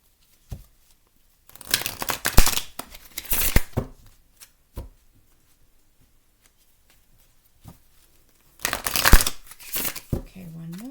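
Tarot cards shuffled by hand in two brisk bouts of rapid riffling and crisp card slaps, separated by a quiet stretch with a few soft taps, heard close up.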